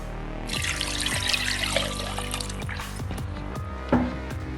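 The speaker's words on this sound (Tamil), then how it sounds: "அது முழுக்கிற அளவுக்கு நம்ம தண்ணி ஊற்றிக்கலாம்." Water pours and trickles into a pressure cooker holding chicken for soup, a soft steady splash under a low background hum, ending in a small drip.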